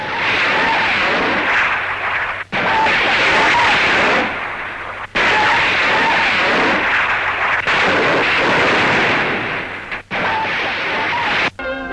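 Rocket launchers fire in long roaring salvos from a large landing craft warship, in loud sustained bursts with brief gaps between them, heard alone.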